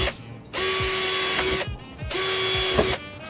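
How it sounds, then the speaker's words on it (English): A power drill bores holes in a Ford Mustang part in two high-pitched whirring runs of about a second each, close and loud, with brief pauses and clicks between them. "just drill out those holes really quick"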